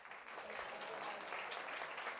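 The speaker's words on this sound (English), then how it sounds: "You clap whenever you get ready to." A National Press Club audience applauds, dense steady clapping heard faintly and at a distance, with some talk underneath.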